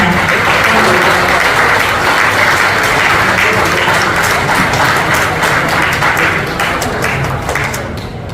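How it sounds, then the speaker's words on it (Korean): A large crowd at a horse racing trainers' retirement ceremony applauds steadily and loudly throughout, the dense clapping holding strong before tapering slightly at the end. "박수 보내주시기 바랍니다"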